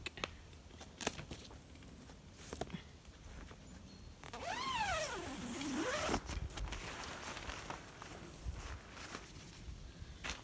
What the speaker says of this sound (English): let me just open this zip a sec.